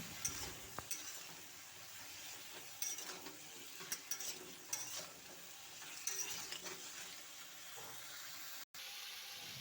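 Chopped vegetables fry with salt and turmeric for a thin winter khichuri, a steady close sizzle with intermittent scraping stirs and light clinks, and a brief dropout near the end.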